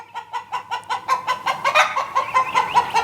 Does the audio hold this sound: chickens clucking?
yes